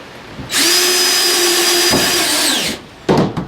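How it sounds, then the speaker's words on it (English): Power drill driving stainless steel screws into a chicken coop build, heard as a loud, steady high whine lasting about two seconds, dipping briefly, then a short final burst as the screw seats. "Stainless steel screw. Go ahead and screw in all the holes"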